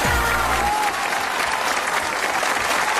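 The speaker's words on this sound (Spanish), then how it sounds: "¡Un aplauso" A studio audience at a Canarian television show breaks into applause at a child singer's introduction, a dense burst of clapping that carries steadily to the end after a brief musical tail at the start.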